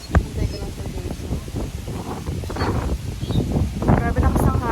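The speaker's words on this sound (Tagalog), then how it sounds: "Grabe na kasang hangin dito." Strong wind at Nacpan Beach, El Nido, Palawan buffets the microphone in rough, gusting bursts that build toward the end, with some voices mixed in.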